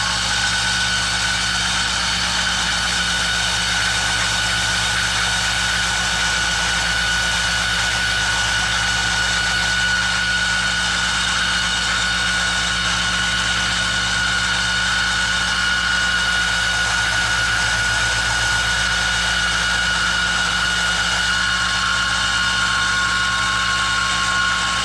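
A power sander rounds over the outside edges of wooden toy wheels for a wave worm toy, a steady loud motorized whir with a high whine running continuously for the whole stretch, no voices.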